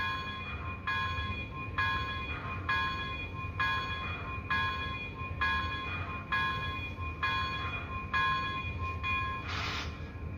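A small bell on an Athearn Genesis model Big Boy steam locomotive rings in a steady rhythm, about a dozen evenly spaced dings over a low rumbling background, fairly faint and without speech.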